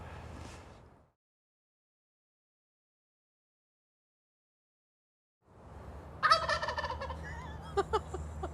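Wild turkeys in a California forest gobble in a rapid, warbling burst that rises out of background rustle after a long silent gap, fairly close and clear, with a few trailing calls.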